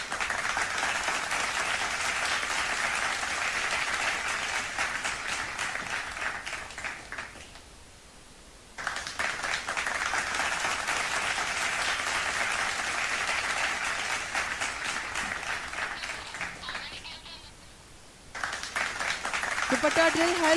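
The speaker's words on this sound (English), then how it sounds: "A round of applause." Continuous crowd applause at a school event for girls performing a dupatta drill, a steady wash of clapping that dips twice into near-quiet before resuming, with talk faintly underneath.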